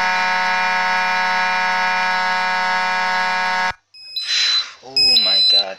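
A Federal Signal 450D fire alarm system in a Roblox game blares a loud, steady electronic buzzing tone that cuts off abruptly, followed by a man's loud exclamations.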